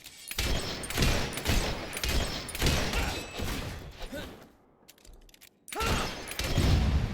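Repeated loud gunshots from enemies firing back in Fable 3, a steady series of sharp reports and thuds, a short pause, then another heavy burst, with a voice shouting over it.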